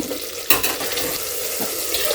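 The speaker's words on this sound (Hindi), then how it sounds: "अब हम डाल रहे हैं इसमें पानी।" Water is poured into a hot pan of mushroom gravy, hissing and sizzling steadily after a sudden splash at the start.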